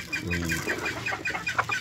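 Farm chickens cluck in a steady, overlapping chatter, fairly close and continuous, with several birds calling at once.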